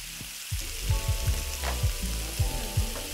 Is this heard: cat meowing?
no